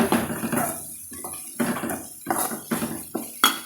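Water is sprinkled by hand into a cooking pan holding a spiced vegetable stir-fry, producing a series of short splashing, sizzling bursts in an uneven rhythm, close and fairly loud, with no one speaking.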